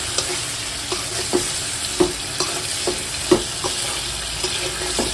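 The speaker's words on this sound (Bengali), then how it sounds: "মশলা তো এখন আমি মাছগুলো দিয়ে দিলাম" Small fish dropped into sizzling spice paste in a pan, steady frying hiss with irregular stirring scrapes and clicks close by, no voices.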